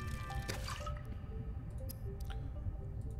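Water being made from a bladderfish in the video game Subnautica: Below Zero, heard as a wet squish followed by several light drips and small liquid pops, close and fairly quiet.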